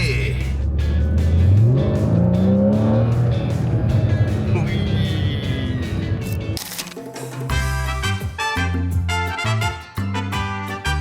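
A Porsche Boxster sports car in Phuket accelerates hard, its engine note climbing through the gears for several seconds before music and talking take over.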